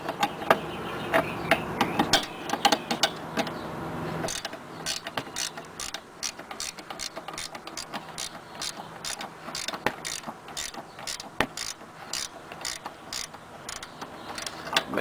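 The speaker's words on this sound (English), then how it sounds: "I'm gonna go ahead and start to ratchet this, loosen it up" A 14mm wrench ratchets on the upper control arm bolt of a 1995-1998 Honda Odyssey, a fast run of crisp metallic clicks heard up close after a few seconds of duller mechanical handling.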